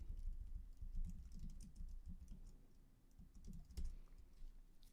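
Typing on a Mac computer keyboard makes quick, soft clacks in an irregular run of short bursts. The key taps are faint and close, and there is no speech.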